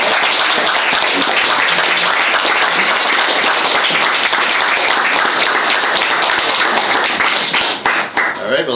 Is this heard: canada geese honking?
no